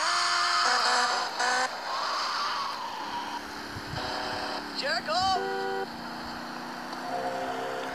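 Motorcycle engine revving and cruising in GTA Vice City, a steady game-engine drone with shifting pitch and occasional whooshing passes, heard beneath someone talking throughout.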